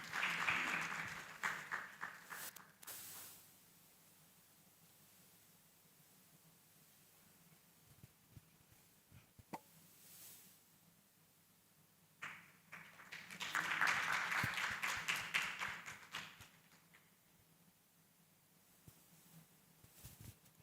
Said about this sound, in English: So let's clap as he comes.